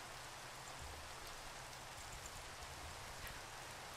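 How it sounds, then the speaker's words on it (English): Steady rain in Minecraft hisses evenly throughout, a constant wash of drops with a faint low rumble underneath and no voices. "Is it raining now? Of course."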